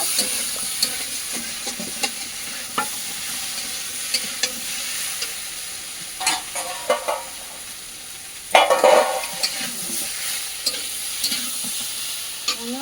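Food sizzles steadily in a hot pan while a utensil scrapes and stirs now and then, with a louder burst of clattering near the end.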